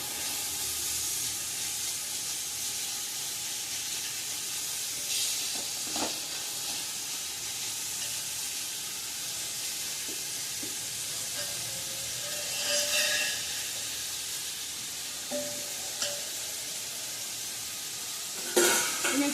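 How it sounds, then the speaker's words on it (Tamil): Onions roast in hot oil for a biryani, giving a steady soft sizzle and hiss with occasional stirring scrapes and clinks close by. "ஆனியன் நல்லா ரோஸ்ட் ஆகுது."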